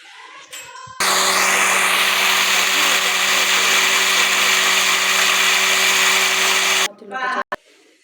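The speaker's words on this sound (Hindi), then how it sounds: "ग्राइंड करेंगे हम मसरों की दाल को" An electric grinder grinds masoor dal, its loud steady whirring motor running continuously for about six seconds before stopping. Brief handling noises and voices come before and after.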